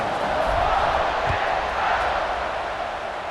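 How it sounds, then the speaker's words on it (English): A stadium crowd in the EA Sports College Football 26 video game keeps up a dense, steady buzzing roar that fills the whole moment without breaks. "this crowd is buzzing after that last score"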